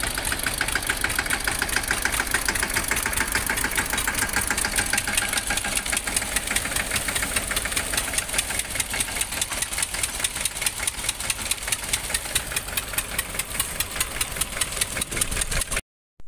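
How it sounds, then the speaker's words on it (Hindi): A tractor engine idles on its own after groundnut harvesting, a close, steady, rapidly pulsing diesel chug with a knocking rhythm that runs unbroken for about sixteen seconds before cutting off abruptly. "अभी मैं ट्रैक्टर से नीचे उतर गया हूँ और ट्रैक्टर अकेला चल रहा है।"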